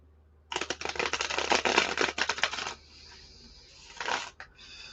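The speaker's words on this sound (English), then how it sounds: "One more shuffle, and that should be good." Playing cards being shuffled up close, a rapid riffle of crisp flutters lasting about two seconds, followed by a quieter pause and one more short burst of card handling.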